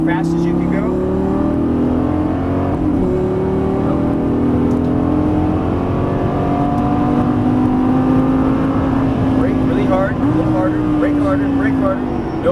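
A Lamborghini Gallardo LP550-2 accelerates around a race track, its engine droning loudly and steadily with rising and falling pitch through gear changes, while a voice gives driving instructions over it.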